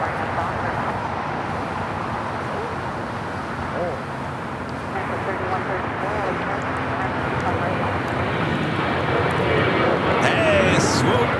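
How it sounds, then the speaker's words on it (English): A WestJet Boeing 737-800 jet arrives at LAX on its landing approach, giving off a steady, broad engine roar that slowly grows louder and nearer. Faint voices can be heard beneath the noise. "That's WestJet's flight 1100 coming in from Toronto in the 737-800."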